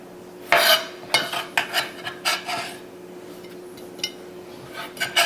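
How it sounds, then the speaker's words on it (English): Chicken and rice with basil is stirred in a pan, a utensil scraping and rasping against the metal in a series of rhythmic strokes, close and clear with no talk, the strokes slowing and thinning toward the end. "for right now, we just wanna stir this"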